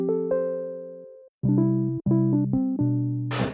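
Initialized preset on the Lunacy Audio Cube sample-based synth: a sustained chord, then several repeated rhythmic chord stabs with bright harmonics, loud and alone, ending in a short burst of noise.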